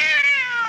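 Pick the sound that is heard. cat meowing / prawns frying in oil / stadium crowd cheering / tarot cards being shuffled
cat meowing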